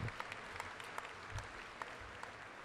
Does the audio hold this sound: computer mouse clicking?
no